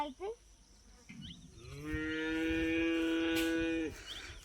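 A cow lets out one long, loud moo that swells and holds for about two seconds, with faint background sounds before it.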